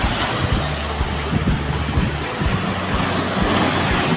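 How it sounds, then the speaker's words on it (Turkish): Steady roar of surf and wind at the Florya shore in Istanbul, a broad continuous wash of crashing water with rumbling wind buffeting the microphone. "Dalgalar bizi ıslattı"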